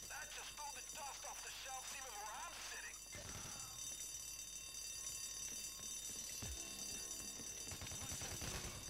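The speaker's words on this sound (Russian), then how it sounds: "Все еще сигнализация пожарная." A fire alarm rings continuously in the background of Payday game audio, a high, harsh electronic tone with voices talking over it and occasional thuds.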